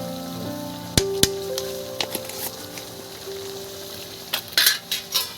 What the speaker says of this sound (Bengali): দিয়ে ভালো করে নাড়বো চাড়বো একদম